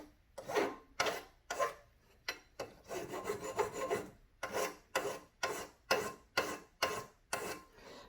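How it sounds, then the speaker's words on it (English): A chainsaw sharpening file rasps against a small metal edge and corner in a steady series of short strokes, about a dozen close, dry scrapes with brief pauses between them. "these are just chainsaw sharpening files. They're good to get in little edges and like this little corner here to round out"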